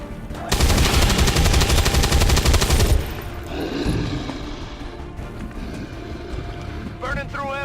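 Automatic gunfire rattles out in XCOM 2 as one loud, rapid, continuous burst lasting about two and a half seconds. It then gives way to quieter, rumbling battle noise.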